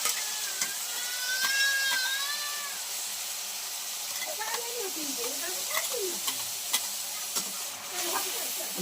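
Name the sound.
onions and spices frying in a pan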